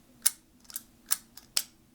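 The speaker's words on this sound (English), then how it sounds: "You can see some of the mechanism for the shutter here, how it engages the shutter." The shutter mechanism of a Bilora Bella 66 medium format camera clicks five times in an irregular rhythm, crisp and close-up, with sharp light snaps and no talking.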